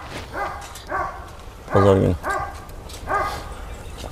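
Big Turkish shepherd dogs barking on a farm, a run of about six deep, loud woofs spaced roughly half a second apart, with someone speaking Turkish nearby.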